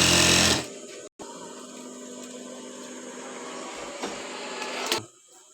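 A domestic sewing machine runs steadily while stitching a petticoat, a loud close whirring that starts with a brief louder burst, carries on with one short break and stops near the end.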